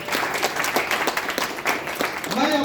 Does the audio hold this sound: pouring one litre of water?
no